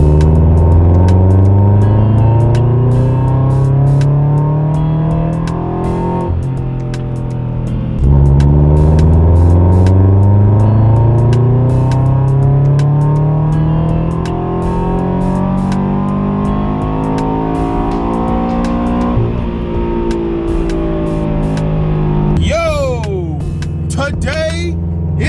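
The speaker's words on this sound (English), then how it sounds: "Now let's see 2 third gear pulls." A car tuned on E85 flex fuel with a stage 2 tune roars through hard third-gear pulls, engine pitch climbing steadily, dropping at each shift and climbing again, loud and close throughout with a brief change near the end.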